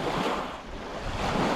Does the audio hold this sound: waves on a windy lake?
yes